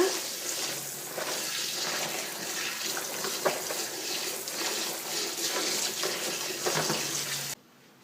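Steady running water splashes continuously as softened cabbage for kimchi is rinsed under a tap, with faint handling noises, then cuts off abruptly near the end.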